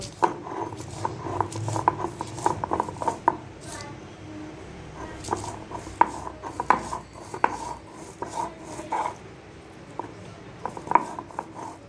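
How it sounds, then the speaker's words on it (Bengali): Chilli being ground by hand on a grinding stone, without water, for a dried prawn bharta, giving rhythmic scraping and knocking strokes in bursts, near and moderately loud, with a short pause partway through. "এবার লঙ্কাটাকে বেটে নেব।"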